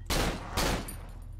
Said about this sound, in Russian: Но мне нравится здесь стрельба, она, на удивление, очень годная.